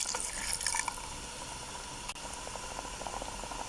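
Boiling water pours into a pot of savoury mince stew with Knorrox stock cubes, a steady liquid rush that splashes at the start and then settles into an even flow.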